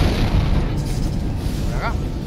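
Explosions tear through a ship in the video game Dead Space, a continuous deep booming rumble with heavy low-end roar filling the whole moment.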